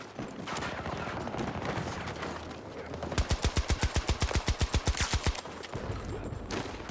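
Automatic rifle fire in the shooter video game Battlefield 2042, a rapid, evenly spaced burst of about twenty loud, punchy shots, close and prominent over background battle noise.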